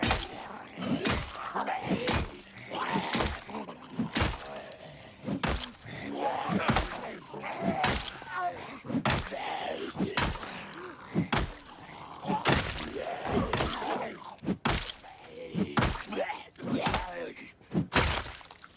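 Repeated blunt thunks and whacks from a long blunt weapon striking zombies in Project Zomboid, landing in an irregular rhythm alongside zombie groans, with a voice talking over much of the fighting.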